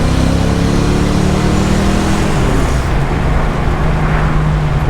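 A 1989 Ford Mustang in second gear, its engine droning loud and steady from inside the car with road noise, the pitch shifting partway through as the revs change.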